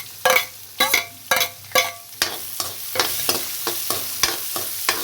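Finely chopped large onion tipped into a pan over a low gas flame, stirred with sharp scraping strokes over a steady background sizzle, the stirring settling into a quicker, lighter rhythm as it fries.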